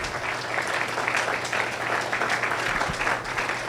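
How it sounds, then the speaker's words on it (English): Steady crowd applause at a community meeting, dense clapping that holds at an even level throughout with no pauses. "Would you please give them a round of applause?"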